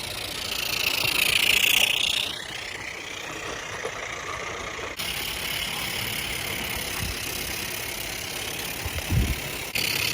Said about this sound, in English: that is a Summerlands chuffer there. Chuffing away.